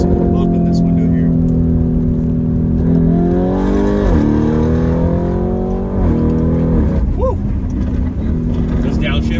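A Lamborghini Urus in Corsa mode pulls hard, its loud exhaust droning and climbing in pitch through repeated upshifts, heard from inside the cabin with wind noise and a voice over it.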